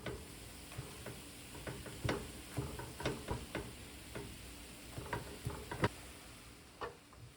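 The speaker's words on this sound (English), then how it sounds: "Cook until the turkey is almost done, breaking it up into crumbles as it cooks." Ground turkey cooking in a pan as a utensil breaks it into crumbles: a soft steady sizzle under repeated sharp scraping and tapping strokes, irregular and close.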